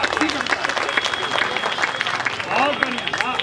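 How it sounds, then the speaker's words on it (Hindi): Audience clapping at a comedy poetry recital, a brief burst of applause mixed with voices talking over it. "वाह, एक बार तालियां बजा।"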